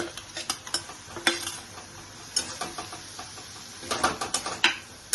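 Paneer pieces tipped into a pan for paneer biryani and stirred, giving scattered scraping and clinking stirs with a faint sizzle, a busier burst of stirring near the end.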